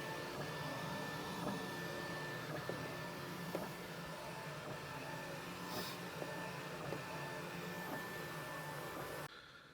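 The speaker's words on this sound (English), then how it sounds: "the printer will kick off and start working" A printer running steadily at close range, with a continuous mechanical whir and faint rhythmic clicks, then stopping just before the end.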